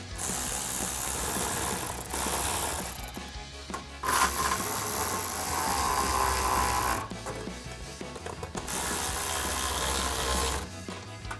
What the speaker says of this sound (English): grab a ratchet 10mm socket and tighten these two clamps down.